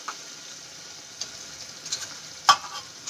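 Tomato and onion masala with turmeric sautéing in oil and stirred in a pan, giving a faint, steady sizzle with soft scraping ticks and one sharper clink near the end.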